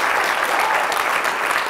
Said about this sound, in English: Stand up, give her a round of applause